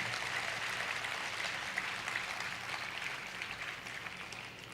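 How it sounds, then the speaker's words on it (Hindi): Applause from the audience at a Shri Shyam Katha religious discourse in Itarsi, a steady wash of many hands clapping that holds evenly for several seconds at moderate distance. "इसलिए इस दरबार में एक बार जोरदार ताली बजाइए मुस्कुराते हुए, फिर आगे चलते हैं।"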